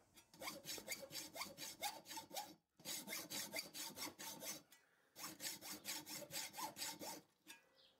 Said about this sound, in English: saw them down with the hacksaw